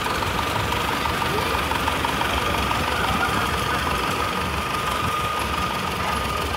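Steady rumbling drone of a giant long-tail propeller boat engine running near a saltwater-barrier sluice gate, constant and close with an even mechanical hum and no talk.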